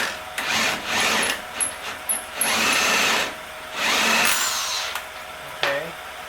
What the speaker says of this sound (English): let's see if we can get this shock bolt actually out